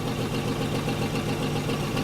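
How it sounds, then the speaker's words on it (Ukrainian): Car engine idling just after being started before pulling away with a manual gearbox: a steady, even mid-low drone with a faint regular pulse, close and constant, no talking. "Запускаємо двигун."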